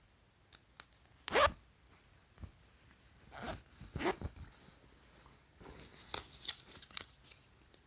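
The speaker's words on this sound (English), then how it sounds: "And you got a zipper, YKK zipper." A YKK zipper on a pair of pants is worked in a few quick, sharp zips close by, separated by soft rustling handling noises and quiet pauses.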